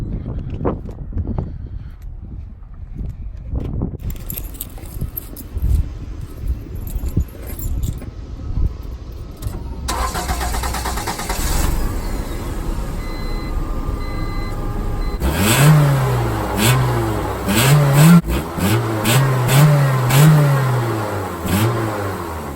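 Keys jangle before a green Honda Integra fitted with a new full exhaust starts up, its engine idling and then revving repeatedly in loud, rising bursts close by.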